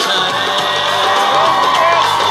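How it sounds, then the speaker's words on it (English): A large college fest crowd cheers and whoops at full volume, a continuous roar of voices with shouts rising above it and no break in the noise. "Please give them a huge round of applause."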